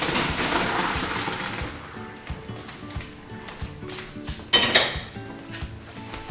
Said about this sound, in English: I'm going to go ahead and strain it